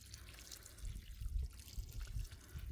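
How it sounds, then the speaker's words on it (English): Fish emulsion water poured from a can onto the soil around a potted mandarin orange tree, a steady close trickle and splash of liquid running for a few seconds with no voices. "I'm gonna water it in with my fish emulsion water here."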